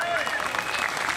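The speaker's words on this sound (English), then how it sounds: "I know a lot of people applauded" An audience claps at an outdoor concert in Hagerstown City Park, a short dense burst of steady applause from a crowd, with a voice heard over it.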